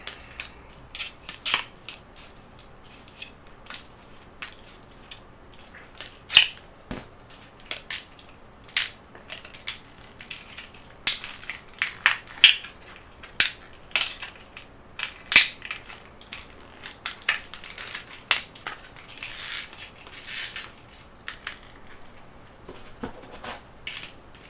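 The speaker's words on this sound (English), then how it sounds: "it's a hard paper in there, so I think I'm cutting through the documentation" Scissors crunch and snip through stiff paper packaging and folded documentation inside a camcorder box, a series of sharp, close cutting crackles in irregular bursts with quiet pauses between.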